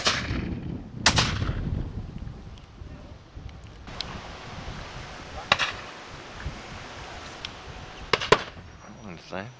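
Shotgun blasts at a driven partridge shoot ring out sharply outdoors, three or four loud reports spaced several seconds apart, each with a brief echoing tail over wind and faint background voices.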